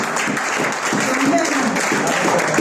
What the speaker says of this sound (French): Est-ce que nous pouvons applaudir pour la parole du Seigneur?